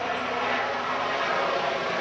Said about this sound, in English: sorry, there's a helicopter.